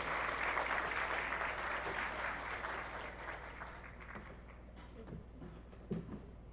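Audience applause at a scholarship awards ceremony, sustained clapping over a low hum that slowly thins, with a few stray claps and faint voices near the end.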